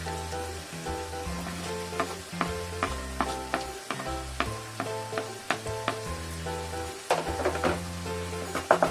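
Spices sautéing for Bengali vegetarian aloo dum with chilli powder, turmeric and sugar, a steady oily sizzle with repeated spoon scrapes and clinks against the pan under a low tonal background hum.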